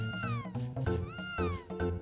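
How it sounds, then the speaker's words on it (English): Repeated cat meows from the Chrono Trigger video game, several bright rising-and-falling cries in quick succession over steady synthesized game music. "Look, Chrono, your cat's running away because you haven't been feeding it."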